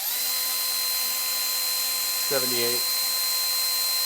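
A Milwaukee M12 grinder runs with a constant, loud, high-pitched mechanical whine throughout, and a voice briefly cuts in over it.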